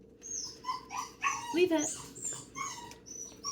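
During leave-it training with a pile of cheese treats, a dog lets out soft, high whimpers and yips mixed in with a trainer's calm voice speaking close by.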